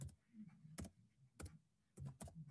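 Several sharp keystrokes on a computer keyboard as a Linux terminal command is typed on Ubuntu, irregular clicks in short bursts, close and faint, with a soft voice murmuring between them.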